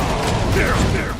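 A shotgun reloads in Metal Gear Solid 5, giving a loud, close mechanical clatter of ratcheting, clicking parts in one brief burst.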